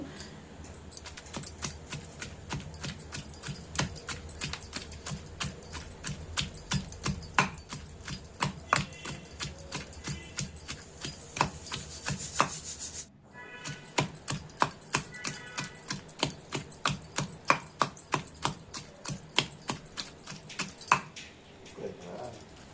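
Green chilli chutney pounded by hand with a stone grinder, a steady run of close, rough knocking and scraping strokes going on without pause, briefly broken midway.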